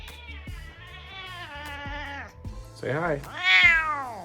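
A pet cat meows repeatedly while being lifted and held indoors, its drawn-out, rising cries close and loud, with a person speaking softly between and over the meows.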